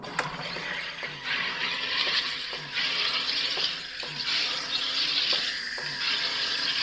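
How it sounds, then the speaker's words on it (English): A steady, airy hiss of pressurized CO2 escaping from a SodaStream E-Terra sparkling water maker as it decompresses, with a few faint mechanical clicks scattered through it. "there's a hissing sound, and that's just the decompression of the air"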